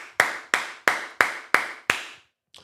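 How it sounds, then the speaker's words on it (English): A single person clapping six times in an even, steady rhythm, each clap sharp and close with a short room echo, followed by a faint final tap. "You deserve a round of applause."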